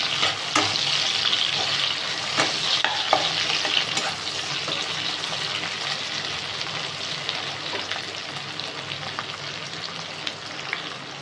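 Chillies and onions fry in a pan for a Bengali mustard curry of parshe fish, making a loud, steady sizzle close by with scattered clicks and scrapes of stirring and no talk.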